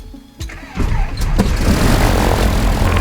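A Cessna 170 airplane's propeller engine starts on the ground: a brief whir and cranking catch, then the engine roars to life and settles into a loud, steady, close idle rumble with no talking.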